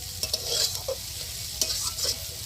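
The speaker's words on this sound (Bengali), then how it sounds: "পেঁয়াজ কলি আলু ভাজা হচ্ছে" Onion fritters and potatoes frying in oil at a Sundarbans village winter pitha festival, a steady broad sizzle with several sharp stirring clatters and spatters rising over it, close and fairly quiet.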